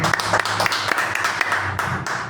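A church congregation claps in praise of the Lord. Steady, fairly regular hand claps keep a rhythmic pulse throughout at moderate loudness.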